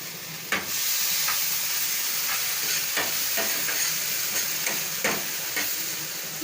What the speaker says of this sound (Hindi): मैं बटर में इसलिए भूनूंगी क्योंकि बटर बहुत अच्छा होता है। मिर्च को भी संग में भून लेंगे।